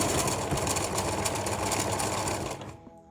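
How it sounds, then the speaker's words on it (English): A sewing machine runs steadily and loudly, stitching through three layers of fabric with a fast mechanical whir for nearly three seconds before stopping abruptly. "I am gonna test out how my sewing machine will handle this"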